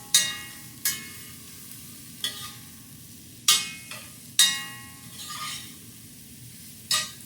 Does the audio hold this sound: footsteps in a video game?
no